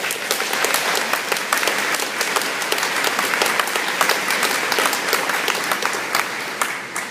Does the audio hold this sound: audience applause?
yes